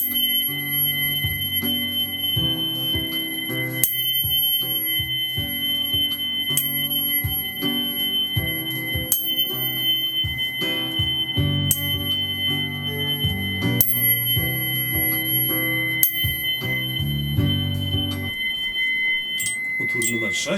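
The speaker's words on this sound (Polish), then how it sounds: "Utwór numer 5, dźwięk tonacji G." A healing tuning fork tuned to G is struck again and again, each strike giving a bright ping that decays into a sustained pure ring, layered over soft, low tonal accompaniment.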